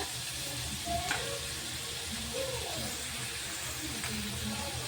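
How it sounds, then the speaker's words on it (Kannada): Masala for paneer gravy fries in a pan on low flame, producing a steady close sizzle with faint scraping and stirring clinks, without any voices. "ಇದು ಇನ್ನೂ ಸ್ವಲ್ಪ ಫ್ರೈ ಆಗ್ಬೇಕು ರೀ"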